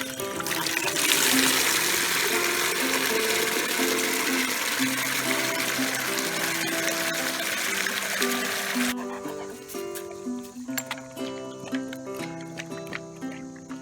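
Water runs steadily from a tap or hose while a camping trailer is set up outdoors, a continuous broadband rush that lasts about nine seconds before cutting off, leaving quieter ambient sounds behind.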